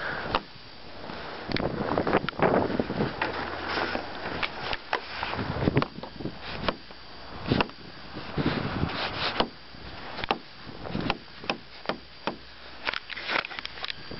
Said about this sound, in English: Sorry if it's very windy.